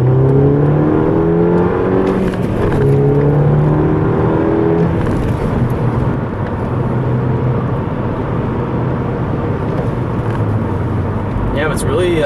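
A 2010 Volkswagen GTI accelerates hard from inside the cabin, the turbocharged engine note climbing through gears under a steady road and wind roar while a person talks over it.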